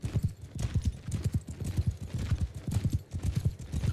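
A horse gallops in the medieval battle video game Bannerlord, its hooves pounding in a fast, steady, loud rhythm throughout.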